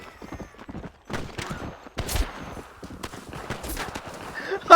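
Hooves clip-clop and gallop in the Red Dead Redemption video game, irregular thuds mixed with game sounds and a brief whinny or burst near the end.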